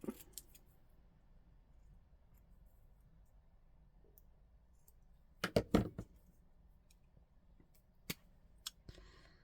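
Scissors trim craft material for a twinchie project. A few faint, sharp snips and clicks come in a short cluster near the middle, with a couple of isolated clicks after it, over a quiet background and no talking.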